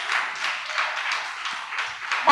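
A church congregation applauding together during a Portuguese-language worship service, a steady wash of many hands clapping that swells and eases in waves throughout.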